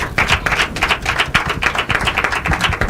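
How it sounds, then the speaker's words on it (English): Audience at an inter-collegiate quiz and debate competition claps warmly, a dense, loud, continuous patter of many hands close by with no voices over it. "A warm round of applause."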